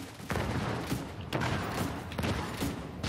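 Grenades and heavy gunfire in The Division 2, with several loud, sharp blasts in quick succession against a constant din of combat noise.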